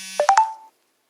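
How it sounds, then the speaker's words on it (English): Phone notification sounds come as three quick, rising electronic tones in a short chime, moderately loud and alone, after a brief low hum, then silence. "Sorry about the notifications, y'all."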